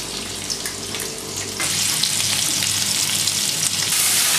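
Chopped garlic and ginger fry in a pan, a constant close crackling sizzle that swells louder partway through and stays dense and hissing to the end, with no voices.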